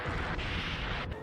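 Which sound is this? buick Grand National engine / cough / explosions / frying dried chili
explosions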